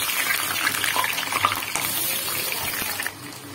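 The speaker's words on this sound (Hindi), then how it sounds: "आलू डाल के फ्राई कर रही हूँ" Potatoes fry in hot oil in a pan with a close, continuous sizzle and crackle, broken by a few stirring scrapes, and the hiss drops off near the end.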